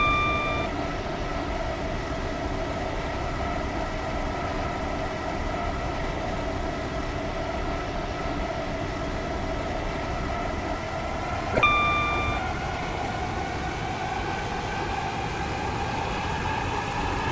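A WaterLine passenger train running between stations, heard from inside as a steady rolling rumble and hum, with a brief electronic beep partway through and no talk.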